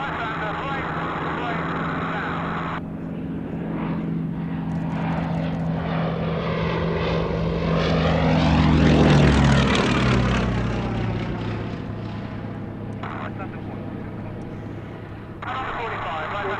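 A Westland Lysander propeller aircraft roars past at an evening airshow, its engine drone swelling as it approaches overhead, peaking loudly, then fading away with a falling pitch.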